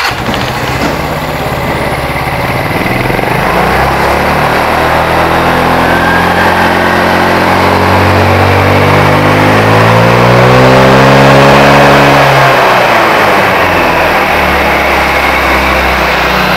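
A scooter engine with a centrifugal clutch driving the rear wheel revs loud and close, its pitch climbing steadily then falling back to a lower drone, with no talk.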